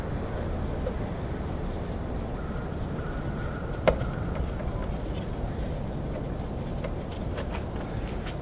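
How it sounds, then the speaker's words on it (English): A truck rumbles low and steady as it makes a U-turn on a nearby street, a continuous broadband drone with a brief sharp click partway through and no talking. "Random truck doing a U-turn."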